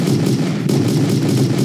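A magnum fires in the destructible-environment bullet-hell video game Destropolis, giving loud, dense, continuous blasts with a heavy low rumble and no pauses.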